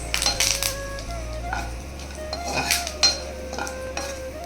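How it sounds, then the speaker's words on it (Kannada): Curry leaves and cumin dropped into a hot pan for tomato rice, crackling and sizzling while a spoon stirs and clinks against the metal in short scraping strokes, close and alone. "ಕರಿಬೇವಿನ ಸೊಪ್ಪು ಹಾಕಿ ಒನ್ ಟೈಮ್ ಚೆನ್ನಾಗಿ ಮಿಕ್ಸ್ ಮಾಡಿ ಗೈಸ್"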